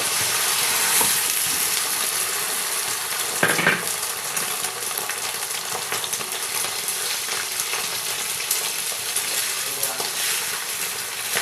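An egg being cracked and fried in a pan for a quick tiffin, with a steady sizzle running throughout and a brief sharp crack near the start.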